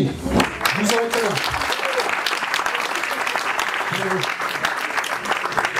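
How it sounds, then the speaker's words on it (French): Classroom or audience applause runs throughout, moderately loud and steady, with a voice talking over it at a few points. "Ouais, on applaudit."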